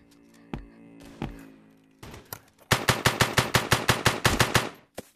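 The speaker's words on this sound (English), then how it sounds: "I keep getting shot by snipers." Gunfire in an online shooter video game, including sniper fire: two isolated shots, then a rapid burst of about a dozen loud, evenly spaced cracks.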